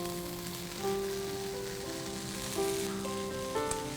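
Cheese patties frying in oil in a pan, a quiet continuous sizzle beneath a steady tonal hum that swells in a few brief surges.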